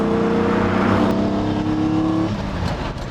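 A Lamborghini Diablo supercar engine droning steadily from inside while driving, a strong even tone that holds and then eases off as the revs drop near the end.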